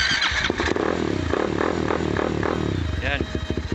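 A 250cc motorcycle engine with a 71mm bore is started and runs in a loose, pulsing rumble for several seconds, close by, with a person talking over it.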